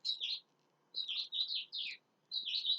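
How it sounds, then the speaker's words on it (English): Small birds sing in a backyard, bright chirping phrases coming in four separate bursts with short gaps of quiet between them, fairly close and clear over a faint low background hum. "Can you hear the birds in my yard?"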